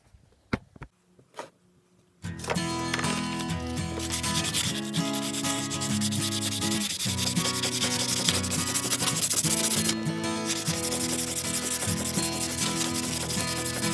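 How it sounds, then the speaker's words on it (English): An antique chisel being restored is sanded by hand: after a few soft taps, continuous rough, rasping rubbing strokes start and run loud and close with no talking. "I'm going to give it a bit of a sand."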